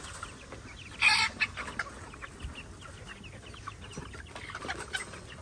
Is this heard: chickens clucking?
yes